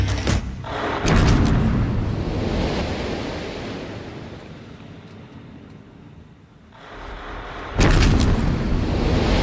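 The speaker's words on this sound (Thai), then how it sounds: "ารระเบิดเกิดขึ้นอย่างสมบูรณ์ แต่ละครั้งทำให้ฐานหิน 370 ตันแตกออก" A deep coal mine blast erupts into a long rumbling roar that slowly fades, then a second loud burst hits near the end.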